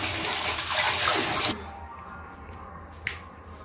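Fish washed under running water, a loud steady rush and splash for about a second and a half that stops abruptly, followed by quiet room tone with a couple of faint drips and a small knock, no talking.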